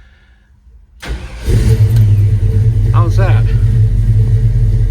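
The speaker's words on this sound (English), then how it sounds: "going to do a cold start on this Chevy right now." A 1951 Chevrolet 3100 pickup cold-starts: a brief crank catches at once and settles into a loud, close, steady engine rumble, with someone speaking briefly over it.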